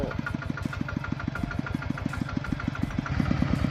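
A tractor engine chugs nearby in a fast, even knocking rhythm while ploughing along the edges of a field, steady and unaccompanied by voices.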